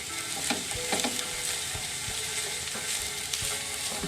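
Chicken and vegetables fry in a pan with a steady close sizzle, while repeated scraping stirs break through the hiss at irregular intervals.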